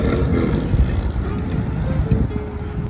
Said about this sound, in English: This is the Pacific Coast Highway and basically we can hear car after car after car.